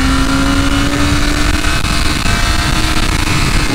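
BMW S1000RR M-package superbike accelerating hard at Interlagos circuit, a loud, sustained engine roar with a steady high-pitched tone holding through the whole stretch, close to the rider and without voices.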